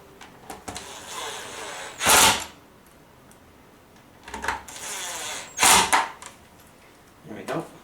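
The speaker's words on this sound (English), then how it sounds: "And let's put the last of these screws in it." Short bursts of a powered screwdriver driving screws back into the casing of an Airfibre 5 radio unit, three or four brief whirring runs separated by quiet pauses, close by.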